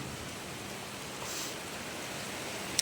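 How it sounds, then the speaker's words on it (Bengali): Heavy rain with wind pours steadily as a dense, even hiss, loud and close, with no break across the short stretch. "এই দেখেন প্রচণ্ড বৃষ্টি হচ্ছে, প্রচণ্ড।"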